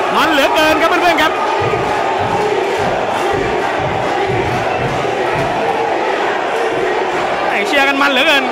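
Loud crowd at a Muay Thai title fight roaring and chanting throughout, with excited shouts rising and falling and voices yelling over the din.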